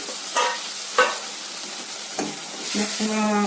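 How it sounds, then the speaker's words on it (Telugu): Sour buttermilk is poured into a hot tempering with rice flour and chilli, then stirred in a pan. Soft sizzling and several distinct scraping stirs sound up close, with a bubbling rise at the end. "బియ్యం పిండి కలిపిన తర్వాత పొల్లటి మజ్జిగ మొత్తం ఈ తాలింపులో పోసేసుకోవాలి"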